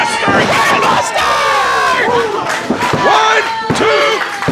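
A loud wrestling crowd cheers and shouts continuously, with whoops, a few thuds and excited voices rising and falling over the arena noise.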